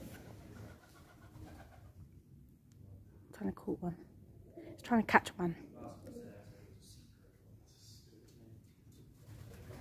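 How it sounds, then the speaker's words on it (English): Pigeons roosting inside an abandoned RAF airbase building give soft cooing calls in short bursts, faint and echoing, while people talk nearby. "See all the pigeons. They're all up there."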